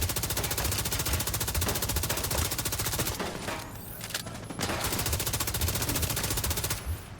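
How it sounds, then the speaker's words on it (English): Rapid automatic gunfire in the video game Exoprimal, a dense continuous stream of shots with brief pauses, loud and close. "you're just taking a whole bunch of bullets in the chest"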